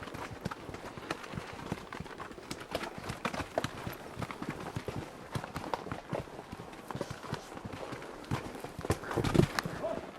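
Mule hooves clip-clop steadily along a jungle cloud-forest trail at about 9,700 feet, a brisk uneven rhythm of many hoof strikes, moderately close, with a brief rustle or knock near the end.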